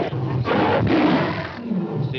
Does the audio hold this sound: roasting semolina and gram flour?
no